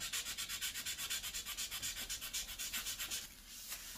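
A motorcycle frame on an Aprilia RSV 1000 Factory is hand-sanded with 500 and 800 grit sandpaper, giving a steady, rhythmic rasp of quick back-and-forth strokes, close by and fairly quiet.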